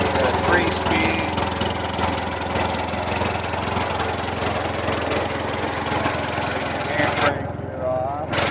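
A 1925 Chevrolet engine with a three-speed gearbox runs steadily as the car pulls away, a loud, rough, continuous mechanical clatter and drone that drops off briefly near the end.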